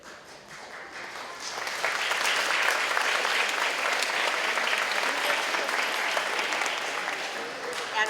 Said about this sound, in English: then we'll give a round of applause for everyone